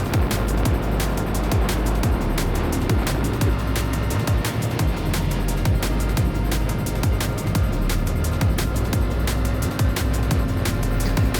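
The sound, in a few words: Yamaha MT-07 motorcycle riding in Northern Thailand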